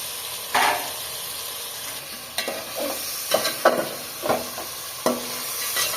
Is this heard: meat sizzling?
yes